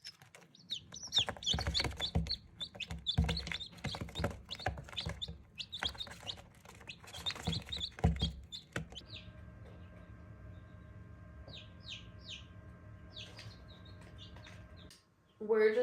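Newly hatched, still-wet chicks peep in high, rapid chirps, close and fairly soft, clustered in the first half and then sparse over a quiet hum, with a person speaking briefly.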